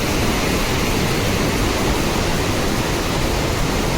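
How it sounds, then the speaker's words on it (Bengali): Loud, steady roar of water rushing fast through a dam canal at Mukutmanipur, a constant broadband wash with no pauses. "কত স্পিড জলটা যাচ্ছে, কত স্পিড জলটা নামছে দেখুন পুরা"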